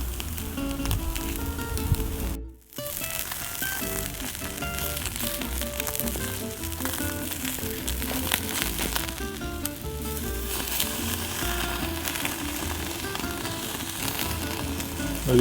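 A sous vide American Kobe wagyu filet mignon sears over hot coals, a loud, dense sizzle and crackle running throughout with a brief break near the start, with no talking.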